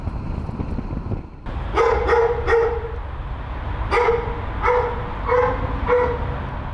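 A Belgian Malinois barks sharply and close by, in two groups of three to four barks separated by a short pause, over a steady low background hum.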